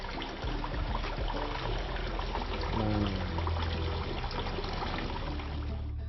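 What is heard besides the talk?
hot water poured over duck meat while washing it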